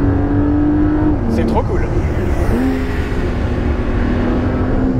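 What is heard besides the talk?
Porsche 911 Dakar flat-six engine revving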